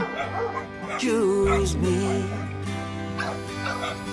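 A shelter dog whimpers and yips in high, wavering cries over a sustained musical backing, with a person speaking briefly near the end.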